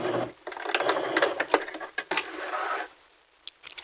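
A sewing machine runs close up in quick bursts while back stitching a fabric hem, stopping and starting a few times and ending in near quiet with small clicks.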